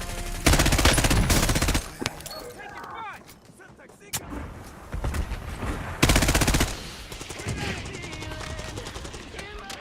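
Heavy automatic gunfire in a battle-royale style video game: two loud sustained bursts of rapid shots separated by quieter stretches with scattered single pops, and voices talking in between.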